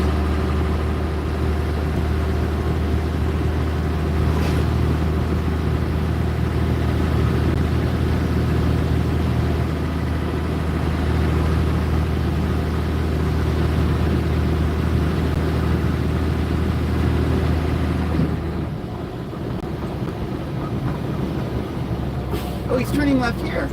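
A 1986 Ford CF7000 truck's diesel engine droning steadily from inside the cab while driving, with a faint turbo whine riding over the low rumble, and occasional speech in the cab.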